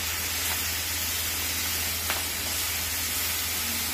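Garlic, ginger and chili paste frying lightly in a pan, giving a steady soft hiss and sizzle throughout with a low background hum and one faint tick.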